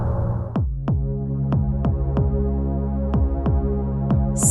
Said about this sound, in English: what do you think about the strange sound near Jupiter?